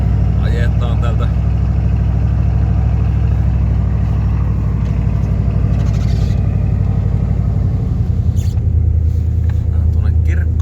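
A car drives through a village with a steady low engine rumble and road noise throughout, while someone talks over it in the cabin.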